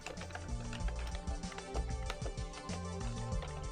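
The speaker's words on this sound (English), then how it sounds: "I'm just going to start typing as Valhalla in my notes to make it much easier." Computer keyboard keys clatter in quick, uneven bursts of close taps, with a faint background hum under the steady typing.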